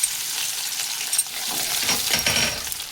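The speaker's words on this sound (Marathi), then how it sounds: "तेलामध्ये छान गार्लिक सॉटे करून घ्यायचं आहे." Finely chopped garlic sautés in hot oil for a street-style potato frankie filling, a close, steady sizzle with bursts of crackle and some stirring toward the end, no voices.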